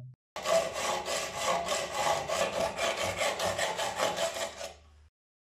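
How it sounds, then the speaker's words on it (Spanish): A hand saw cuts through the heads of wooden dowels held in a clamp, giving rapid rhythmic back-and-forth rasping strokes, close and clear for about four seconds before stopping, with no talking. "con una sierra le cortamos la cabeza"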